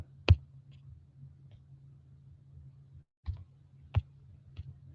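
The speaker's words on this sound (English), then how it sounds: "So I'm typing that question out." Several sharp, isolated clicks of typing on a keyboard, spaced out and fairly close, over a low steady hum with no talk.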